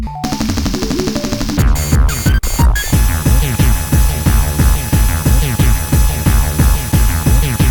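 Streets of Rage video game soundtrack music plays loud and alone, a short synth intro giving way to a driving electronic beat with steady pulsing drums and bass under sustained synth tones.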